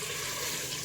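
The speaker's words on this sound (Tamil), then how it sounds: "ஸோ இங்கே தண்ணி ஆட் பண்ணிக்கிறேன்." Water poured into a pressure cooker over sautéed sambar rice ingredients makes a steady, dense splashing rush with no break, loud and alone for under a second.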